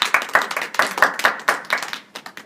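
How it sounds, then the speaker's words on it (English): A small library audience claps at an author visit, a short burst of close, uneven handclaps with individual slaps clearly distinct that thins out toward the end. "I think she deserves a round of applause for"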